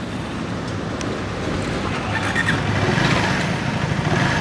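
A 2026 KTM Adventure 350 motorcycle idles close by, its engine giving a steady low rumble that thickens slightly toward the end, with no talk over it.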